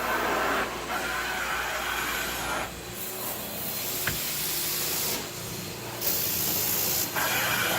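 A Jaguar 8.4 carpet cleaning extractor, rated up to 800 PSI, sprays fiber rinse solution onto carpet at a customer's home, giving a steady loud hiss that cuts out briefly a few times.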